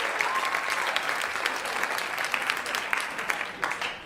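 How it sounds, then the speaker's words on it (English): An audience at a stand-up comedy show claps in a thick, continuous round of applause, fairly loud and even throughout, with faint crowd murmur but no clear speech. "You can clap."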